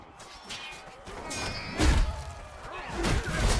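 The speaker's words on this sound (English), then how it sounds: "I just hit that guy in the head just then" A melee weapon striking an armored enemy's head in Chivalry 2, a couple of dull heavy thuds amid combat noise, loud and close without speech.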